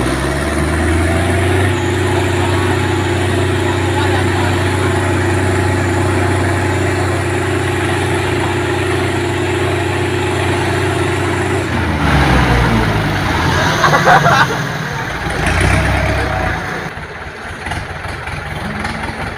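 Heavy equipment tractor engines run steadily at a low idle-like drone during an evacuation push, then rev and labor unevenly in the last several seconds.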